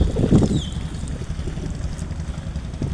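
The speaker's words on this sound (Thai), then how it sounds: "กำลังมาเป็นเรือของชาวประมง" A fishing boat's engine rumbles low and steady near a harbor mouth at the sea, heard from the beach under gusting wind on the microphone.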